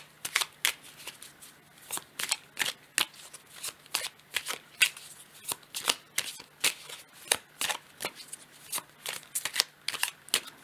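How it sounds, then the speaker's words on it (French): Tarot cards are shuffled and drawn by hand, giving a steady run of quick, crisp riffling snaps and slaps close up, with faint low background hum and no speech. "Je vais prendre une autre carte."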